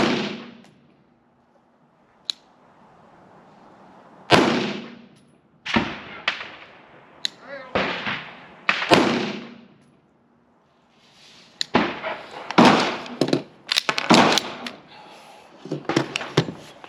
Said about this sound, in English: so that's where we're going to shoot